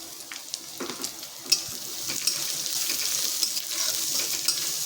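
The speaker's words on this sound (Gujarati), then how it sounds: "સૌથી પહેલાં આપણે અહીંયા ડુંગળીને શેકી લઈશું" Finely chopped onion fries in a pan, a moderate, steady sizzle close by with a few sharp pops and light stirring clicks, no voices over it.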